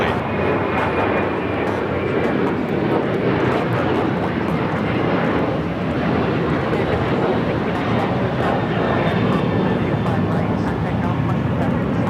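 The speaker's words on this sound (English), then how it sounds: "This is Alaska Airlines 1412 taking off to Liberia on the 737-900ER" An Alaska Airlines Boeing 737-900ER takes off at LAX with a steady, loud jet roar that fills the whole stretch, and speech is faintly present beneath the engine noise.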